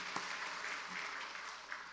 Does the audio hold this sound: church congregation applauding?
yes